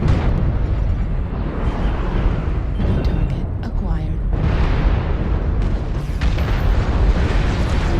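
Incoming missiles exploding in MechWarrior Online, near a Highlander 732B assault mech: a dense, continuous barrage of loud booms and rumbling blasts over constant mech and battle noise.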